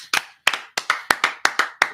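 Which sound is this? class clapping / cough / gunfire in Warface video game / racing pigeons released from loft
class clapping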